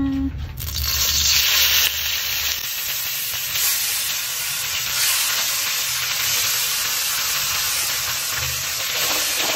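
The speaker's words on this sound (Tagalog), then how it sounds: "Magpiprito din tayo ng galunggong para sa kids" Galunggong fish fry in hot oil with a loud, dense sizzle and popping spatter, close and continuous throughout, with no one speaking.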